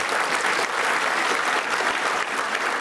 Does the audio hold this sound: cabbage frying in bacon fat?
no